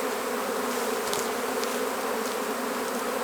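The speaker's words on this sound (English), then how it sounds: "The frame helps Philip to see the bees because they spread out on the frame" Honeybees taken from a feral colony in a hollow swarm over a frame, giving a dense, steady buzzing hum close by, with brief louder buzzes of single bees passing near.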